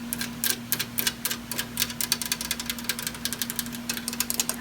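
Fast, irregular tapping and scratching on metal Egyptian lanterns in a lantern shop, crisp close clicks arriving in quick bursts over a steady low electrical hum, with no talking.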